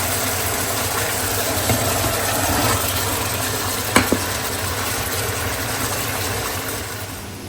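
Egg masala frying in a pan as an egg goes in, a steady loud sizzle with a low rumbling background and a couple of brief clinks near the middle, no speech.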